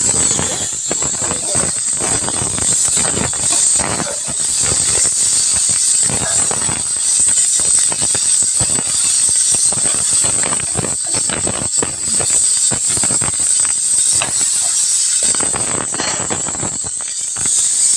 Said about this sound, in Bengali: পটলগুলো আমার প্রায় ভাজা হয়ে এসছে